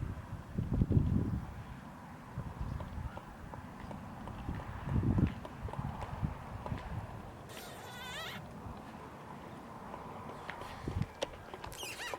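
Hooves of a horse loping fall in soft, muffled thuds with a loose, uneven rhythm over a quiet outdoor background, joined by a brief scraping rattle and faint insect noise.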